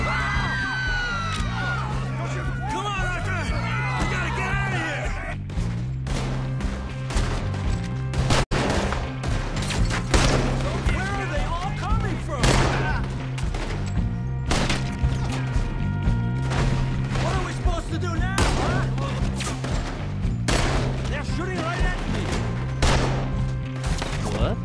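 Gunfire in Red Dead Redemption 2, a chaotic firefight of repeated loud shots and crashes mixed with shouting voices and game music, dense and continuous.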